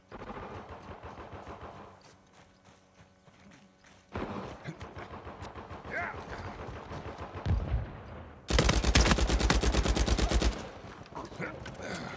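Gunfire in Uncharted 4 comes in irregular bursts of rapid shots, faint at first and then louder and closer, peaking in a dense, heavy volley near the end.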